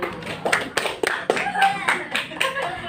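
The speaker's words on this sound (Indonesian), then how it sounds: "Kalau semangat tepuk semangat dulu" A school class claps the rhythmic 'tepuk semangat' cheer, a string of sharp, evenly spaced hand claps close by, with children's voices mixed in.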